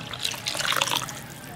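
Water poured into a simmering tamarind curry made with appalam in a village kitchen, a steady close splashing trickle running throughout with small bubbling drips.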